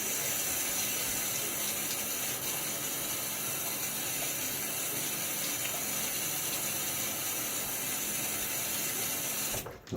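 Tap water running steadily into a sink while a razor is rinsed during a wet shave, a close, even hiss that continues for several seconds before ending in a brief clatter at the close.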